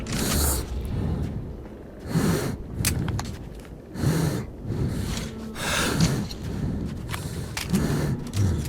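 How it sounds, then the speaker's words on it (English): Character in Metro 2033 breathing deeply and heavily through a gas mask, slow rhythmic inhales and exhales roughly every two seconds, close and muffled, with faint mechanical background noise between breaths. "You'll just suddenly notice your character breathing deeply and you'll press the button to change the filter."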